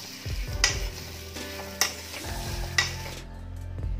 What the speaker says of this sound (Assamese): তাৰপিছতে আমি ভালকৈ এনেকৈ ভাজি ল'ম।